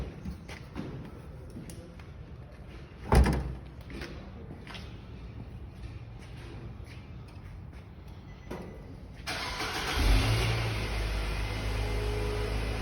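A Nissan Sentra's engine cranks and starts after a single thud and some quiet handling noise, then runs on at a steady, fairly loud idle to the end.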